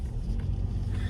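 A car drives along at night, a steady low road rumble with engine hum, constant and fairly close throughout the short stretch.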